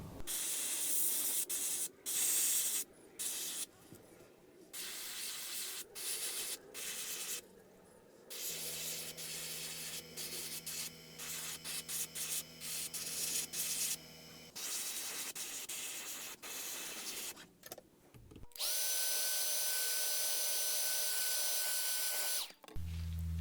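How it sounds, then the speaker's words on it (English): Bursts of aerosol spray paint hiss on and off in short and longer blasts onto a fishing lure, close by, with quiet gaps and some handling noise between. "I'm going to go ahead and try to spray right here on the inside of that as well."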